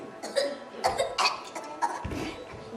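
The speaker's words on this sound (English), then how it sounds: "Then Mahlon coughed himself to death." A performer on stage in a Ruth and Boaz play acts out a fit of coughing: a series of loud, harsh coughs in irregular bursts, ending in a deeper, heavier hack.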